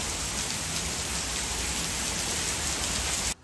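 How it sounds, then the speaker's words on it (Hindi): Heavy rain pours down in a steady, dense roar, loud and close with no voices, then cuts off abruptly at the end. "बहुत तेज बारिश हो चुकी है इस वक्त तो भाई।"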